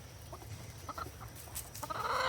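Backyard chickens kept in a city in Indiana cluck and murmur on a summer day, with soft, scattered calls that rise into a louder burst of clucking near the end. No one is speaking.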